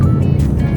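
A car goes by on a narrow, slippery road, a loud, close rumble of engine and tyres that swells briefly, heard without talk.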